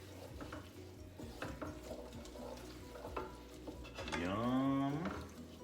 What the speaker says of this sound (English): I'm gonna stir that.